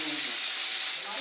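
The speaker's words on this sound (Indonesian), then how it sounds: "goreng tempe." Tempeh frying in hot oil, giving a steady close sizzle and hiss that holds for about a second with little change.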